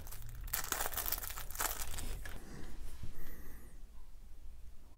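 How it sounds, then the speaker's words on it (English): A little plastic bag crinkles and rustles while a miniature figure is unpacked, with bursts of crackling handling noise in the first half that fade toward the end. "And Jade also comes in a little plastic bag."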